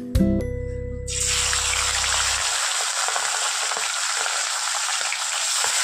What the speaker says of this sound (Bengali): মাছে খুব ভালো করে আমি নুন হলুদ মাখিয়ে নিয়েছি। এবার এটা ভেজে নেব।